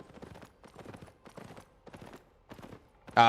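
Hooves of a riding horse clip-clop in Albion Online, a quick, even rhythm of soft clustered steps with a sudden louder burst at the end.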